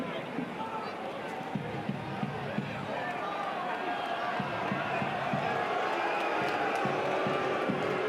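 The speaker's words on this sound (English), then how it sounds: "Crowd with a couple of boos." Football stadium crowd at an A-League match between Newcastle Jets and Adelaide United, a broad murmur with a rising roar and scattered thuds, with a commentator talking over it.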